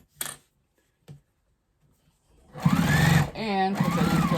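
A sewing machine stitches a quilted jelly roll tote bag in white thread, starting with a few soft clicks and then running in a loud, close, steady whir with brief changes in pace.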